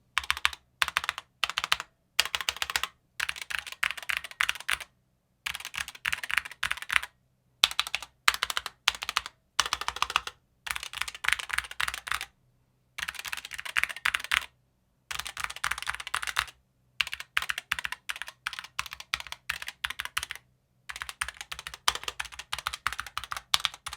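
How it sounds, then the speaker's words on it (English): Bursts of rapid typing on a wireless SteelSeries Apex Pro TKL mechanical keyboard, crisp clacking keystrokes in quick runs separated by short silences, close and clear with no talking. "Sound tests are pretty boring within keyboards, but I want you to listen to this one here."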